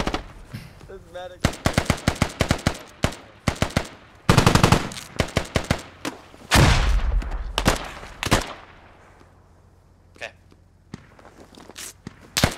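Gunfire in the video game Squad, with rapid machine-gun bursts and single shots going off close and loud in clusters, then sparse distant shots fading out, as a player shouts excitedly over the shooting.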